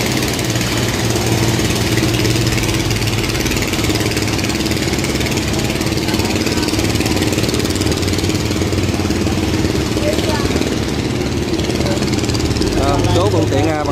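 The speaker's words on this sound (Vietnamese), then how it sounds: "được ghe tàu chạy qua đây rất là đông các bạn" Engines of wooden and iron boats drone steadily and loudly as the vessels pass through a sluice gate, a dense, continuous rumble with no pauses.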